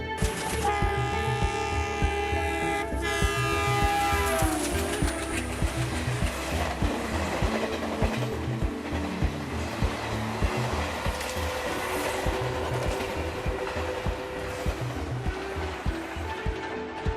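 An Indian Railways Rajdhani Express train passing: a loud, steady rumble and roar fills the whole stretch, with sustained horn-like tones sounding in the first few seconds.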